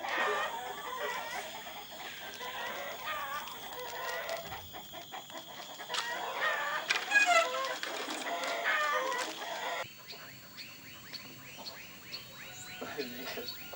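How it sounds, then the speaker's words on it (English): Chickens cluck in bursts with a rooster crowing once midway, over quiet background voices and rustling. "As always, this young man attends his chickens."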